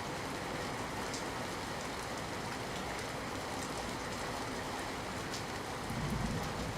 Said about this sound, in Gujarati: તો અમરેલીના લીલિયામાં પણ ધોધમાર વરસાદ ખાબક્યો છે